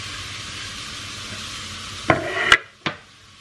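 Ground beef stirred and sizzling in a pan, a steady frying hiss throughout with a few sharp utensil scrapes and clinks near the end.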